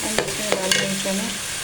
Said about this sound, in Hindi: चने सारे डाल दें, फ्राई करें।